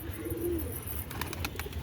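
A captured pigeon gives a low, throaty coo, one soft rolling call near at hand over a steady outdoor hiss, with a few faint clicks after it.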